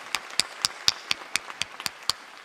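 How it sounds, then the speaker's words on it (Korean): Congregation at a special early-morning church revival service clapping in praise, about ten sharp, separate claps spread over a couple of seconds, fairly quiet with no talk. "하나님께 영광의 박수 드리겠습니다."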